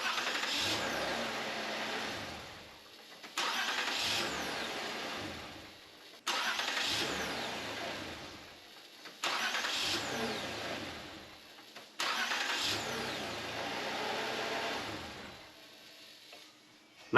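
A Toyota RAV4 of the 2006-2012 generation starts repeatedly after a starter motor replacement, with five separate cranks catching into a running engine, each followed by idle and a short break.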